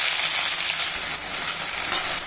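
Loud, steady sizzling of two chopped onions frying in hot oil, a constant bright crackle close up with no voices.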